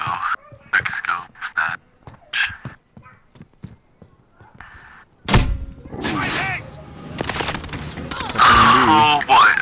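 A stun grenade goes off in Call of Duty: Modern Warfare, a sudden loud burst about halfway through that leaves a dense, ringing wash of noise. Quiet game sounds and soft voices come before it.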